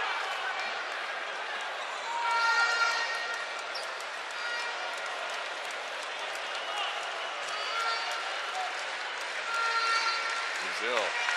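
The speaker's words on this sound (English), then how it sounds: "Fulvio unable to silence the crowd" A basketball arena crowd at a FIBA AmeriCup game between Brazil and Colombia roars steadily and loudly throughout, with swells of cheering beneath a commentator's voice.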